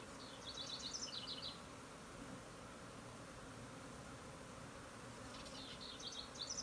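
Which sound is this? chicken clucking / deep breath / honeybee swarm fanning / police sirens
honeybee swarm fanning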